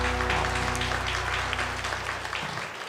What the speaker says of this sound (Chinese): 我们一起拍手，把荣耀来归给神